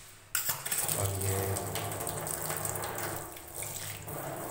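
Water is poured onto a granite kitchen counter, starting abruptly and then splashing in a steady, close stream that continues to the end.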